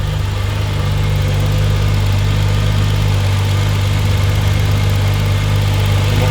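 A BMW E34 M5 engine runs steadily after a transmission and exhaust replacement, giving a loud, continuous low rumble with a strong even hum and no breaks.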